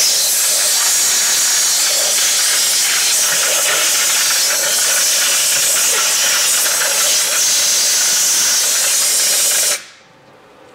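A water and solvent gun wash machine rinses a spray gun with a loud, continuous hissing spray that stops abruptly near the end.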